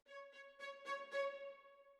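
Short MIDI string notes played in live on a keyboard, a quick run of five or so staccato attacks ringing briefly, clear and close with no talking.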